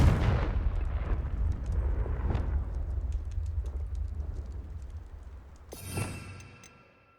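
A fire-spell explosion in Hogwarts Legacy opens with a loud, deep, rumbling blast that slowly fades over several seconds, then a brighter crackling burst near the end, amid faint clicking keyboard taps.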